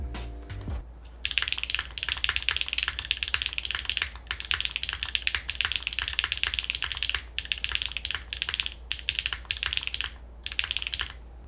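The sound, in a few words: typing on Stratum-80 mechanical keyboard with cherry switch spacebar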